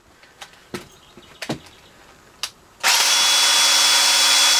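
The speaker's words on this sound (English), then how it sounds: "I can hear the motor working pretty hard" A few scattered clicks and knocks give way to an electric motor starting up, a loud, steady whirring drone of a homemade mixing tool straining hard.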